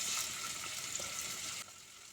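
Enoki mushroom rolls wrapped in pork sizzle and crackle in hot oil in a pan, a soft, steady frying hiss with small pops that drops slightly quieter near the end.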